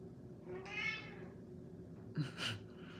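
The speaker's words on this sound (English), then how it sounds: "my 21-year-old cat is saying, I'm hungry" An elderly 21-year-old cat meows twice for food, a drawn-out close meow followed a moment later by a second, sharper one, quiet and alone without talk.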